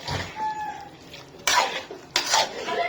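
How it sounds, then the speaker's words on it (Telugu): Marinated chicken for a spicy curry is stirred in a metal pot: a spoon scrapes and clanks against the pot in several loud, close bursts. Between them are softer rubbing sounds, and no one talks. "చికెన్ ఉడికే వరకు బాగా కలుపుకోవాలి."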